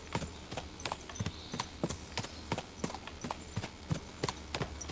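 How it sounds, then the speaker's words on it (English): A horse's hooves clip-clop in Kingdom Come: Deliverance 2 as it walks along, a steady, fairly quick rhythm of crisp, close hoofbeats over a low outdoor ambience, with no talk. "I wonder if I should get off my horse."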